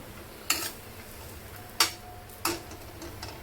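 Ground peanuts roasting dry in a pan, three sharp spatula scrapes and taps against the metal spaced about a second apart over a faint, quiet hiss, no voices.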